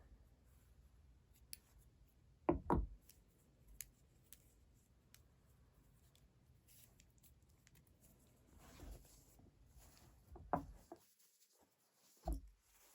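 Scissors cutting crochet yarn at the end of a top: a few sharp, close snips spaced several seconds apart over a quiet background of light handling noises.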